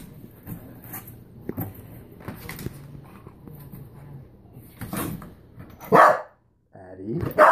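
A dog lets out a couple of sharp barks near the end, after a stretch of quiet talking and shuffling.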